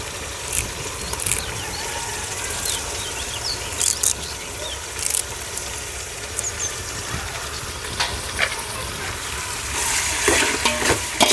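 Tomatoes and curry leaves fry in hot oil with onions and green chillies in a home kitchen, sizzling steadily and close, with occasional sharper crackles and stirring scrapes throughout and no talking.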